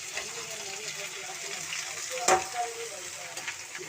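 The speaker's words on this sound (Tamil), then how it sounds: "நல்லா வதக்கிக்கலாம். வெங்காயம், தக்காளி சேர்த்துக்கலாம்." Onion, tomato, curry leaves, mint and coriander leaves sauté in a pan for tomato chutney, a steady frying sizzle with one sharper spatter or scrape near the middle and light stirring clicks throughout.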